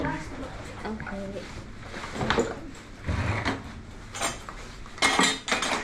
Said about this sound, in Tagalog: Nagliligpit ako ng pinggan ng mga ano ko kagabi